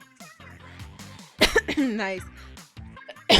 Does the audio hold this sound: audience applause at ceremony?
no